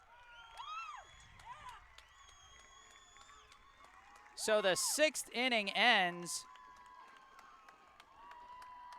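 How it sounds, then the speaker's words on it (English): Crowd at a Lou Tompkins semifinal youth baseball game cheers in a loud burst of shouts and whoops between innings, rising mid-clip over a commentator's talk and birdsong before fading. "you can hear the crowds going from both sides now"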